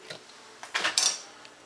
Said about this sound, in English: I'm gonna put this on the stove